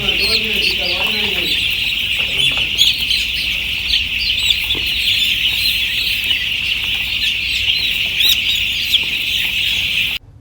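Chicks on a poultry farm during vaccination keep up a loud, dense chorus of high peeping and clucking close by for the whole stretch, with a brief voice near the start.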